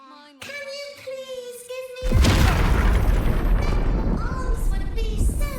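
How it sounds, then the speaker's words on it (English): A bomb trap blows up in Baldur's Gate 3, one loud, deep boom that bursts in after a stretch of tonal game music and rolls on as a long rumbling, crackling roar. "Let's go ahead and blow it up here."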